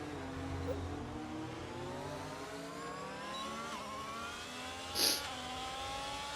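Formula 1 race cars at the Belgian Grand Prix in a racing video game, several engines whining and rising in pitch as they pass at a distance, with a brief sharp burst near the end.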